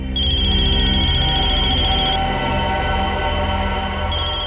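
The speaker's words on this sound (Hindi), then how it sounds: "इसमें तो मोबाइल के रिंगटोन जैसा कुछ बजा है।" A mobile phone ringtone plays loudly as a bright repeating electronic melody with sustained high tones, briefly breaking off near the middle and resuming, over a low background hum.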